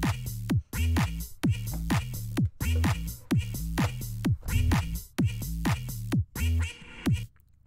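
A duck quack sample repeats as the main hook of a house music track, landing in a steady four-on-the-floor rhythm over a thumping bass line, loud and upfront throughout.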